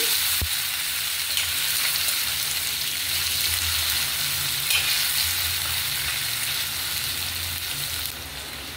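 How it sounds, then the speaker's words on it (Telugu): Mutton pieces frying in oil over a medium gas flame, giving a steady, even sizzle that runs throughout at moderate loudness, with a faint tap near the start. "ఇప్పుడు గ్యాస్ మీడియం ఫ్లేమ్లో పెట్టుకొని ఈ ముక్కలు కొంచెం ఈ ఆయిల్లో మగ్గాలి"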